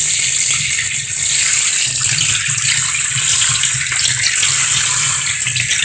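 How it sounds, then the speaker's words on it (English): Water runs steadily from a tap in a zombie survival video game, a constant loud hissing gush with no pauses, alone without voices. "Running water."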